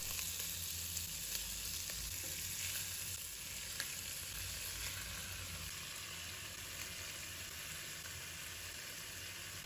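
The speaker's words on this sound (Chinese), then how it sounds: "我们把鸡肉一块一块的放入锅中，煎鸡肉的时候尽量皮朝下" Chicken pieces fry skin-side down in a pan over medium heat without water, rendering their own fat, giving a steady, dense sizzle that holds evenly throughout with no voices.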